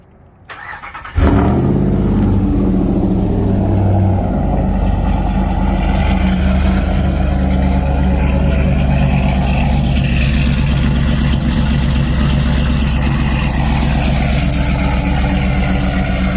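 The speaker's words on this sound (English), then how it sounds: "start it up and hear it chop through the exhaust for you guys" A Ram truck engine with an AWE exhaust cranks and fires up, then settles into a loud, deep, choppy exhaust idle that rumbles steadily on its own.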